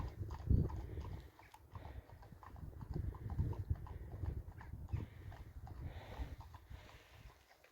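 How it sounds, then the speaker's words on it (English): Horses on a hillside dip along the Pennine Way between Winshields on Hadrian's Wall and Bellingham, their hooves clip-clopping faintly at a distance in steady irregular beats over wind and outdoor background noise. "Horses."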